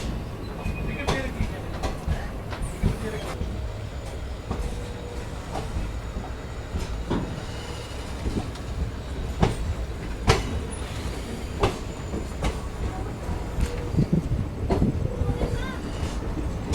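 The Sabarmati Jaisalmer Express departs Sabarmati station, with steady rumbling rail noise, clattering wheels and occasional sharp clanks and squeals, heard from on board amid a faint background voice.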